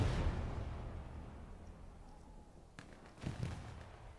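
Artillery fire in the Hell Let Loose video game during a competitive match: one sharp distant crack followed by a pair of low booming impacts, set against a steady rumbling battlefield background.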